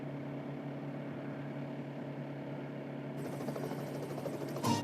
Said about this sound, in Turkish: Arkada helikopterle geziyor.